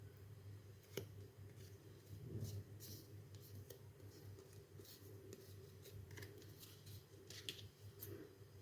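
Scissors trimming excess paper from a junk journal embellishment, faint quiet snips and paper rustles over a low steady background hum.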